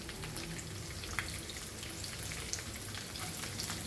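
Garlic added to hot oil with curry leaves while cooking Goan potato bhaji, a steady close sizzle and crackle with scattered small pops.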